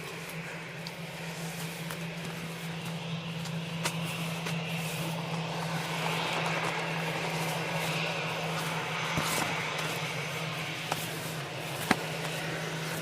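EasyJet airliner at Manchester Airport, a steady moderate jet engine drone with a constant low hum, heard from a distance at even level throughout, a few faint clicks and knocks nearby.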